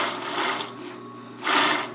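Sewing machine stitching a zigzag pass with its top thread tension set too tight, a steady close mechanical whir that swells louder in two bursts, with no talking.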